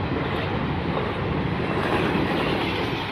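A train rumbles past a level crossing, a loud, continuous roar of wagons rolling by close up, steady throughout with no voices.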